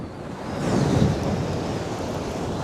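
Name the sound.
wind blowing on the Northumberland shoreline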